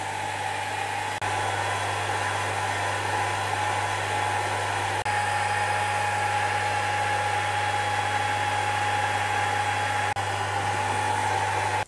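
A 20W laser module cuts 9mm hardwood plywood, producing a steady whirring hum and hiss from the machine's fan and air assist, constant and unchanging, with faint clicks at intervals.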